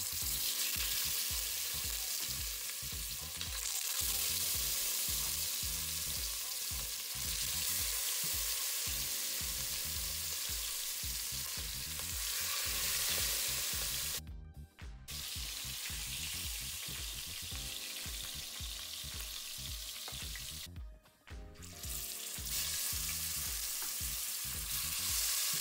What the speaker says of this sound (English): steaming Dutch oven, and we're gonna allow it to sear on all sides